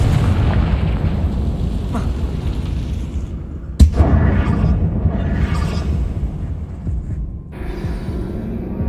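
A Confringo blasting spell in Hogwarts Legacy lands with a sharp, close explosion midway, over a dense, rumbling game soundscape with a swelling whoosh of debris afterward.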